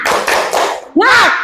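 Pupils in a classroom perform a quick rhythmic spirit clap: several loud, close group claps in a short pattern, then a voice calls out over the end.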